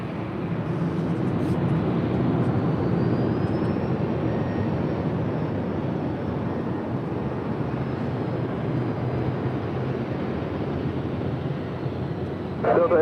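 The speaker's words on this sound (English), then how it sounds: "Our next arrival is Alaska Airlines Flight 165 coming in from Portland. It's an A320." An Alaska Airlines A320 arriving at LAX, originally delivered to Virgin America in 2007, makes a steady, loud broadband jet roar that holds evenly throughout without breaks.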